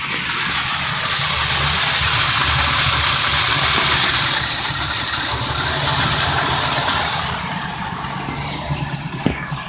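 A 1989 Cadillac engine runs close by with a loud, rough, slightly sputtery idle and a broad hiss that eases toward the end.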